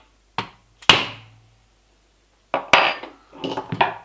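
Hammer striking a pin punch into a pin on a metal CYMA M4A1 airsoft rifle resting on a mat: sharp metallic taps, a couple singly, then a quick cluster of blows, close and loud.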